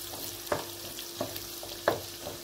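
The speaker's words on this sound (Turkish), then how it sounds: "Bir de tereyağı koydum. Şöyle karıştıralım." Butter melting in a pan with oil for bulgur pilaf, a low steady sizzle broken by a few sharp scrapes and clacks of a spoon stirring, close up.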